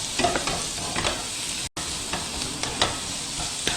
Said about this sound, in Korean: 오징어 볶을 때는 센 불로 볶아줍니다